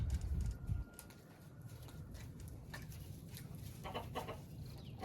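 Hens and a rooster cluck and murmur in a small backyard coop, a steady dense chatter of fowl with a louder burst at the start, no talk.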